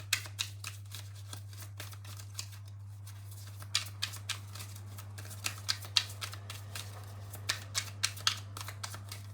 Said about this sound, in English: I'm just shuffling back here because I don't want to mess up the spread